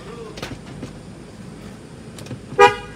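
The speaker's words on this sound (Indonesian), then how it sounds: "Klakson aktif." Horn of a 2012 Nissan Grand Livina 1.8 HWS, one short clear honk near the end after a quiet stretch of faint background noise.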